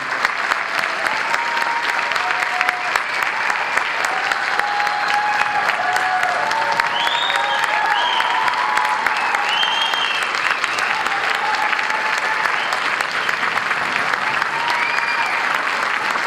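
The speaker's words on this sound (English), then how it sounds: "Let's get a nice round of applause for all the work that your Marching Warriors have done on that over the season." Sustained audience applause at a 2018 marching band concert honoring the Marching Warriors, steady and dense clapping throughout with faint cheers, no talking.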